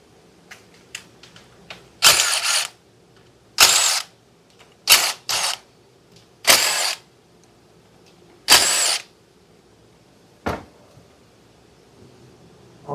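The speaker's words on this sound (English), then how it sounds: "So we just have to remove these 5 bolts here, 8 mm." A power tool whirs in short bursts, about six separate spins, backing out 8 mm bolts from the electric compressor of a Hyundai Tucson, close and loud with quiet gaps between each run.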